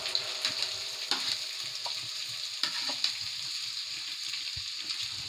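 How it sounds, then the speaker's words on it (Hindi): Tomatoes fry in a pan for aloo kurma, giving a steady close sizzle with soft popping crackles throughout. "अब इसमें हम टमाटर डालेंगे"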